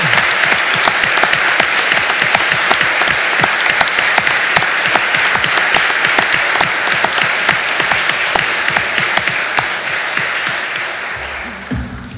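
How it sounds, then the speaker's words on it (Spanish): Loud, sustained applause from an audience at a swearing-in ceremony for new lawyers before a Supreme Court, dense steady clapping that carries on throughout and begins tapering off near the end. "Aplaudamos este logro."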